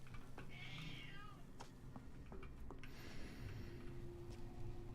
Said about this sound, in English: My cat is old and hates being picked up